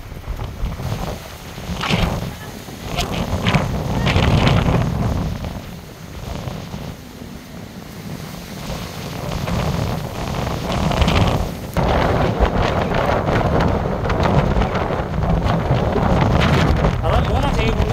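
Strong gusts batter the microphone on the Oryukdo skywalk, roaring loudly and without a break across the whole stretch. Someone talks through the wind.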